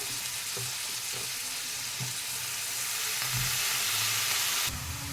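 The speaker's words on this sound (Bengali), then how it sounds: "এই মূলো শাকের মধ্যে সব শাকটা ঢেলে দেব" Radish greens tip into a hot frying pan and sizzle steadily, a broad hiss swelling slightly before cutting off near the end, with a few soft clunks of the pan underneath.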